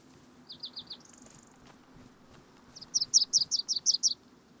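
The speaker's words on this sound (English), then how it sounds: "Loud ass bird." Bird calls in the survival video game DayZ: a quick run of four chirps, a brief buzzy trill, then a louder series of about eight sharp, evenly spaced notes, close and clear over quiet ambient background.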